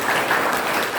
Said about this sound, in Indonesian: Oke, tepuk tangan untuk seluruhnya.